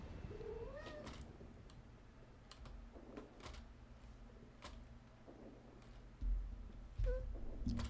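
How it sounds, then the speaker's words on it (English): A pet cat meows a few times near the microphone, with one call early and another near the end, alongside faint computer-keyboard tapping and soft bumps in a quiet room. "Help me from my menace cat."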